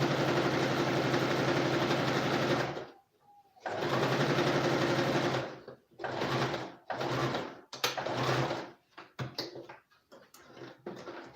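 A sewing machine sews a garment in loud continuous runs that stop and restart several times, breaking into shorter bursts near the end.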